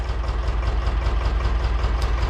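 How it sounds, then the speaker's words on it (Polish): An Ursus C-330 tractor idles with a sprayer attached while the tank contents are mixed, a loud steady low diesel rumble with a fast even throb, close by and continuous with no talk. "Ciągnik odpalony, się miesza zawartość."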